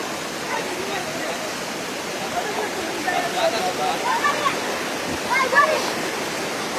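Floodwater from Mizoram rushing past Gudam Ghat, a steady broadband roar of fast current that stays loud and continuous throughout.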